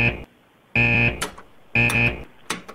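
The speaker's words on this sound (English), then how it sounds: "What's this buzzer sound?" A loud electronic buzzer alarm blares in two harsh, distorted one-second bursts separated by a pause, each followed by a sharp click, close and dominant.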